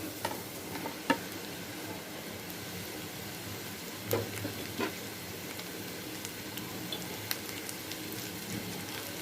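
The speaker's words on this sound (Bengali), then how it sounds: "ভাজা ভাজা হয়ে গেলে আমি ঢেঁড়স দিয়ে দিব।" Okra frying in a pan with already-browned onions gives a steady sizzle, broken by a few sharp stirring clinks and scrapes, close up with no talk.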